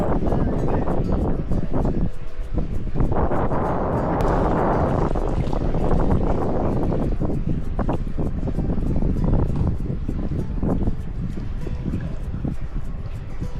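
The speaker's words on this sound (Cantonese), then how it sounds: "礦洞口入面好大風啊" Strong wind gusts steadily at the entrance of the 110ML tunnel of the Ma On Shan iron mine, a loud, continuous roar buffeting close to the microphone without a break.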